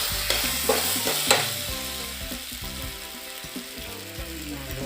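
Broiler chicken meat added to taro leaves frying in a pan, a loud crackling sizzle with a few sharp stirring clatters early on, settling into steady frying with faint tonal hum underneath.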